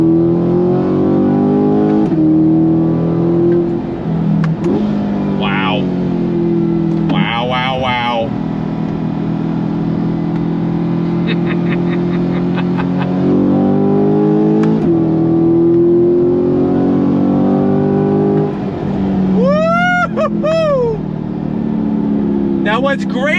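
A C8 Corvette Stingray Z51 fitted with an AWE exhaust accelerates hard under manual paddle shifts. A loud, close engine note climbs through several gears, with brief dips at each shift.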